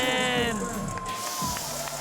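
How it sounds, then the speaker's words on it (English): A French crowd at a scooter freestyle spine ramp men's final in Montpellier roars and cheers continuously, a dense distant wash of shouting voices with a commentator talking over it. "The whole crowd shouting, Ale."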